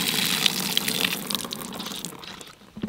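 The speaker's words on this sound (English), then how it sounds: "I'll pour this water out." Water poured out of a fish trap beside a backyard pond, a steady splashing gush lasting a few seconds that tapers off near the end.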